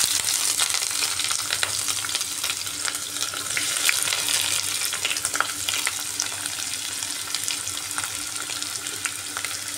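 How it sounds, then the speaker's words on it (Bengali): Chopped onions fry in oil with whole garam masala (cinnamon, cardamom, cloves) on their way to light brown, a steady, dense sizzle with occasional stirring scrapes, close and continuous. "পেঁয়াজটাকে এভাবে হালকা ব্রাউন কালার আসা পর্যন্ত ফ্রাই করে নিচ্ছি"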